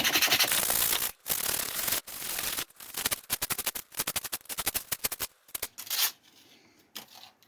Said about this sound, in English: Use a bit of 80 grit to scratch it up.